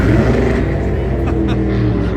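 A tuned race car with power adders rumbles nearby, its deep engine note holding steady with a throaty, pulsing idle that stays loud throughout.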